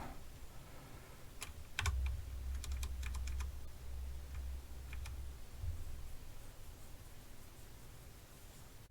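Keys clatter on a computer keyboard as a command is typed, with a few quick bursts of clicks and short gaps between them over a soft background hum.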